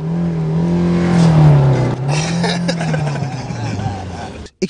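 An old Mercedes 190 diesel sedan runs with a loud, droning engine note that rises and dips in pitch like a tractor, with voices talking over it inside the car.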